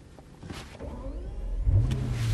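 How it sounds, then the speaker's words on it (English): A Bentley Continental Flying Spur's engine burbles at idle, a low steady rumble that swells and deepens toward the end, heard up close with no voices. "Hear that familiar burble?"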